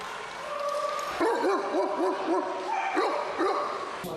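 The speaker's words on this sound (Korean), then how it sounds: "그런데 다른 개들이 아무리 짖어대도 방카르는 평온하다." Many dogs gathered at a dog show bark and yip in quick, rising and falling bursts, several overlapping at mid distance against a busy background.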